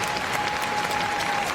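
Crowd applause for a Tibetan Terrier at Crufts 2018 utility group judging, dense and steady clapping from a large indoor audience, with a faint voice underneath.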